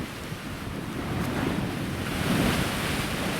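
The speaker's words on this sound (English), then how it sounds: "I thought I'd come here now and show you some waves" Ocean waves surging and breaking on a shoreline, a steady broad wash of surf with heavy wind buffeting the microphone, rising slightly toward the end with no speech.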